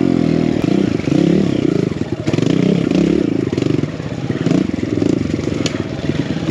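A modified BBR Kawasaki KLX170RF dirt bike engine revving loudly while riding, a rough continuous buzzing drone that rises and falls in pitch, with clatter from the trail underneath.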